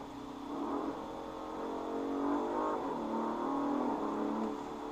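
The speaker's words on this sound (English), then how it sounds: "those upshift sounds sound awesome" An Audi RS5 with an eight-speed ZF gearbox revs hard as it accelerates, its pitch climbing and dropping with each gear change, steady and fairly close throughout.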